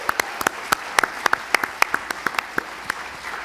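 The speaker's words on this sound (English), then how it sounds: "Let's give 127 Creative a round of applause." An audience gives a round of applause for 127 Creative at the Carroll Biz Challenge 2018 business competition. The sharp claps are fairly sparse and scattered, with no talk over them.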